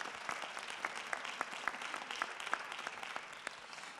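A conference audience welcomes a panelist with steady, moderately quiet applause, many hands clapping evenly with a few sharper claps standing out.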